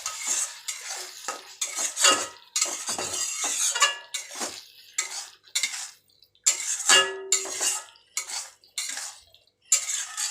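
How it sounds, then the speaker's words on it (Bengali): A spoon stirs ghugni in a pan on the stove, with repeated scraping and clinking strokes in an uneven rhythm, separated by brief pauses, close up, with faint sizzling and no talking. "এখানে নাড়িয়ে দেব।"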